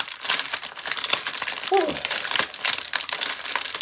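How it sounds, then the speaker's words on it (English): A plastic bag of fruity movie gummies being torn open, with dense, close crinkling and crackling throughout and a brief exhale from a person partway through. "The movie bag gummies. Fruity. So, just open it."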